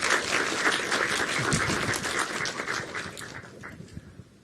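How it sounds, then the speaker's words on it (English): An audience at a talk in London applauds a speaker, a dense, steady clapping from many hands that holds for a few seconds, then thins out and fades with a few last claps. "Please give him a well-deserved round of applause,"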